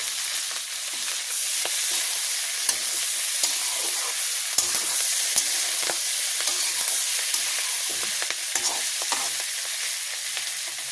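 Green chillies frying in a pan in a village kitchen give a steady, close hiss and crackle with small stirring clicks and pops throughout.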